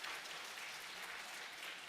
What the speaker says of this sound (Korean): 우리 좀 박수로 격려해 주시겠습니다.